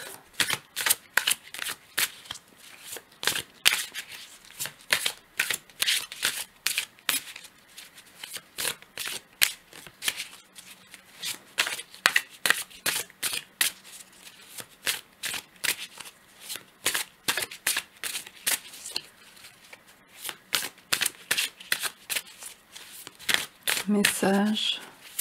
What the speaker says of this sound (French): Je vais tirer deux cartes.